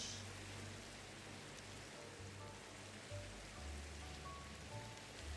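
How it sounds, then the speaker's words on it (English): Steady rain falling in the video game Minecraft, a continuous soft hiss with a low rumbling undertone, fairly quiet and even throughout with no talking. "it's still raining"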